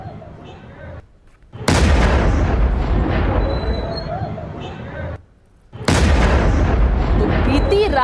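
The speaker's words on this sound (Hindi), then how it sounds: "अमृतसर में खासा आर्मी कैंट एरिया में यह विस्फोट हुआ है" Two heavy explosions boom at the Khasa army cantonment in Amritsar, Punjab, each a sudden loud blast trailing into a long rumbling roar, separated by a brief quieter gap.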